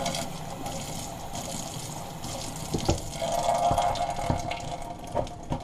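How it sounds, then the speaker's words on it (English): Water trickles and splashes faintly into a container of carp-fishing method dough mix, with a few soft clinks and a brief steadier pour partway through. "you can always add just a little bit of regular water"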